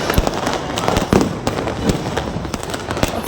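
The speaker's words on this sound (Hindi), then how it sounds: "और अभी मैं आपको बमों की आवाज़ सुनाती हूँ, आप सुनिए।" Firecrackers bursting during a 15 August Independence Day celebration in India, a rapid string of loud, sharp cracks and pops crowding over one another in close succession, near and dense throughout.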